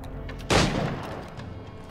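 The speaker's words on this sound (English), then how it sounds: "Who the fuck is shooting me?" A single loud gunshot cracks close by in Assassin's Creed IV Black Flag, a sudden burst followed by a short rumbling decay over low game ambience.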